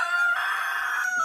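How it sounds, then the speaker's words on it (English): A rooster among rescued commercial chickens lets out a single close, clear crow, a drawn-out tonal call lasting about a second. "those are my commercial chickens that I rescued"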